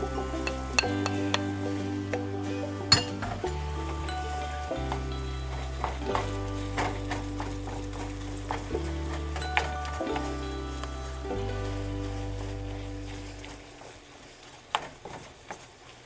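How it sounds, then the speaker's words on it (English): Onions and garlic frying with ground beef in a pan for beef barley soup, a soft steady sizzle with occasional utensil clinks and stirring, under low background music. "now I'm going to put in the onions and the garlic and let that fry up with the ground beef"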